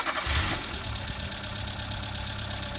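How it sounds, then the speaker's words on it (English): A Peugeot 205 petrol engine cranks and catches with a brief loud burst, then settles into a steady, rhythmic idle close by, with a faint knocking texture running through it. "Let's start the engine."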